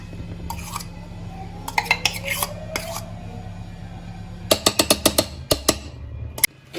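Christmas cake batter being mixed with ghee and milk in a bowl, giving a series of close clinks and scrapes of a utensil against the bowl, sparse at first and then coming in a quick run of sharp taps.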